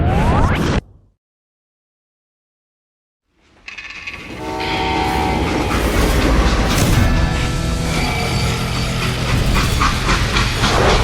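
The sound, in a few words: freight train in video game Call of Juarez Gunslinger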